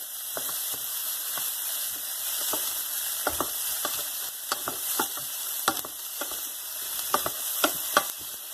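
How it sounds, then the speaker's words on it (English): Carrots and other vegetables sizzle in a pan while being stirred, with a steady frying hiss broken by scattered scraping and tapping strokes of the spoon, close and without talking. "Now we will keep some carrots and mix it"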